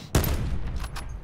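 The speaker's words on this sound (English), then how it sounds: "They're shooting at him." Gunfire in a battle royale video game breaks out as a sharp loud burst, then a rattling volley of shots at middle distance that lasts about a second.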